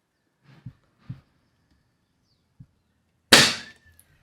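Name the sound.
Cometa 300 air rifle shot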